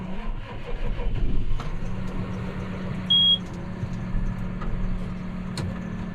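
A John Deere 6215R tractor engine idles with a steady low rumble heard from inside the cab, with a short electronic beep midway and a few light clicks.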